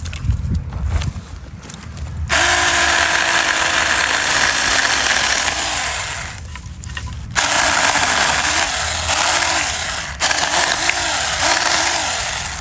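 Saker mini electric chainsaw revving and cutting through wood in bursts, a loud, close buzzing whine with pitch dips under load, separated by short pauses.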